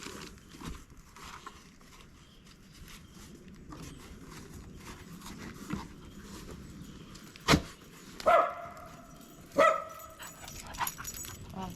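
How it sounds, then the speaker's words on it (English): A puppy outdoors near a river gives a few short barks and yips after a stretch of quiet background, the bursts close and fairly loud. "Dog."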